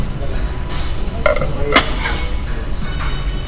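A few brief clinks and knocks of dishes and a frying pan being handled in an IKEA store, over a steady background of shop noise.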